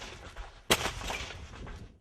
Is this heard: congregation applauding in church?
no